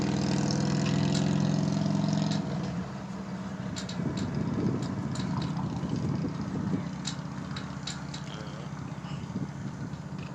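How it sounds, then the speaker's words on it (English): Motorbike engine passing by, a steady loud low drone that drops away after about two seconds and continues more quietly and roughly, with sharp clicks and knocks scattered through it. "I got a motorbike passing by."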